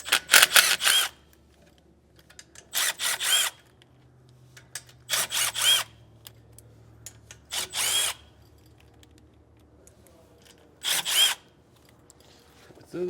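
A power tool fires in five short bursts, each about a second long, spinning off 9/16 nuts from a trailer brake assembly during a disc brake kit install on a 2018 Keystone Cougar. The bursts are loud and close, with quiet pauses between them.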